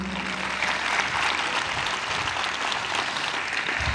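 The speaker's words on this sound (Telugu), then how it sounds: "ఏదేదో గట్టిగా చప్పట్లు కొట్టండి, బాగుంటుందిగా." A church congregation at a Hosanna Ministries service claps loudly and continuously, a dense, even roar of many hands that holds steady for the whole stretch.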